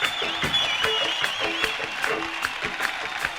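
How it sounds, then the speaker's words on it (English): Live music festival crowd applauding themselves, a sustained patter of claps with scattered cheers and whistles, fairly loud and close, with some crowd voices mixed in. "Give yourself a nice round of applause."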